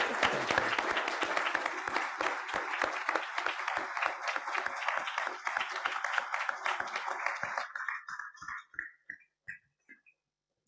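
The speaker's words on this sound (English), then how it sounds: "Let's give him a big round of applause today." Audience applauding Secretary Gates: dense, sustained clapping from a large crowd that holds steady for several seconds, then thins into a few scattered, fading claps.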